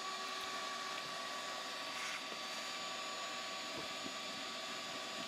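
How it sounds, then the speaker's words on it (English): Steady, fairly faint whine of a vacuum sucking yellow jackets off the comb of a large nest removed from an attic, a continuous drone with no breaks and no talking. "as I start vacuuming them off"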